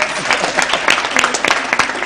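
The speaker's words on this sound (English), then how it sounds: "So let's clap for Mr. Daniel," Loud applause from an audience at an all-Kenyan moot court competition, many hands clapping briskly for the chief editor of an e-journal, a continuous rapid patter with a voice faintly underneath.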